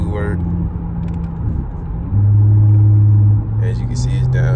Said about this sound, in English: As you can see, it's downshifting.